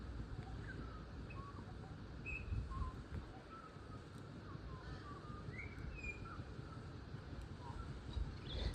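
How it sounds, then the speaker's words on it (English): A bird sings in short, scattered chirps at a distance, faint over steady wind noise outdoors. "That bird is so sweet. It's just having a lovely day, listening to the sound of its own voice."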